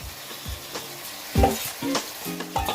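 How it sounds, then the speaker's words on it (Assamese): Goat mutton pieces being stirred in frying masala for a curry, cooked over a wood fire: a steady sizzle with repeated scraping, clanking stirs at close range, no voices. "মাংসখিনি দি ভালদৰে লৰাই দিছোঁ"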